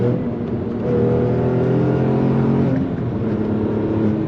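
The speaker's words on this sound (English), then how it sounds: "the engine is really, really nice. That sound is always there." A steady, full drone from an Alfa Romeo GT's 3.2 V6 holds at cruising speed on the autobahn, loud and continuous throughout, with no voices over it.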